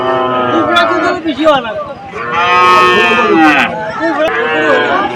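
Several cows low loudly at Nalitabari cattle market, where heifers and bulls are sold, with long overlapping moos close by and a busy crowd murmuring underneath.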